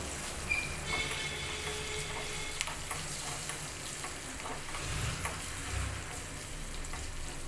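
Urad dal, chana dal and dried red chillies fry in a pan for tomato green chilli chutney, a steady close sizzle and crackle with occasional stirring scrapes and no talking.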